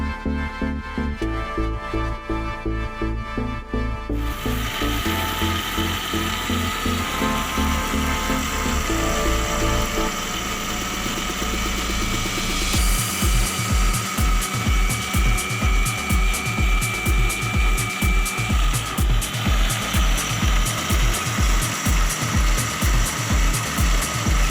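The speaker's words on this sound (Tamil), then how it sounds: "வெங்காயம், ரெட் சில்லி, தேங்காய், ஜீரகம் இந்த 4ஐயும் சேர்த்து மசாலா அரைச்சி வச்சுக்கலாம்." A mixer grinder whirs loudly as it grinds a masala of onion, red chilli, coconut and cumin. The motor's pitch shifts after a few seconds, then settles into a rapid pulsing churn, with no talking.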